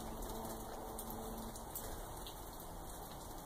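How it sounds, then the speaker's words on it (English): Rain falls steadily outside over a garden yard, a soft, even hiss that stays constant throughout with no talking. "I'm going to wait for a bit for the rain to stop raining"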